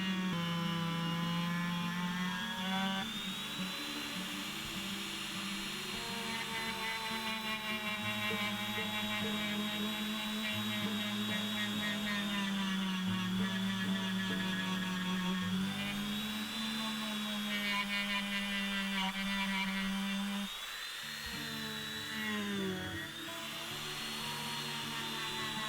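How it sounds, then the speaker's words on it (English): A Dremel rotary tool buffs an old brass draw gauge with green polishing compound, giving a steady high whine with shifting tonal pitch and a low motor drone, running continuously and close without pause. "so out comes the Dremel once more and, using a green polishing compound,"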